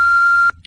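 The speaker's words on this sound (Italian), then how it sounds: "Per lasciare un messaggio, parlate dopo il beep" A single clean electronic beep from an answering machine, loud and steady for about half a second, then cut off abruptly.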